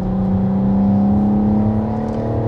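BMW M4 on the Nordschleife pulling under throttle, a loud steady in-car engine drone with a rising whine as it accelerates, heard alone without talk.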